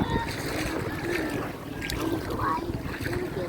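A small boat moves over choppy sea water off Gigantes Island, Iloilo, with wind buffeting the microphone and waves slapping, while a voice talks briefly nearby.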